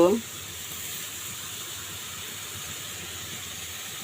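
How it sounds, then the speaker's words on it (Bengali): Ginger paste hits a hot pan for a chicken gizzard and potato curry, giving a steady, even sizzling hiss that holds throughout after a brief voice at the very start. "আমি এখন আদা বাটা দিব"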